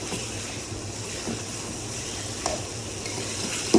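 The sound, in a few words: shol fish with potatoes sizzling while being sautéed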